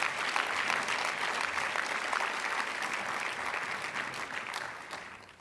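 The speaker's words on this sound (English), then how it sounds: "Let's give a round of applause" Audience applause at a university lecture, a steady wash of many hands clapping at moderate distance that gradually fades out toward the end.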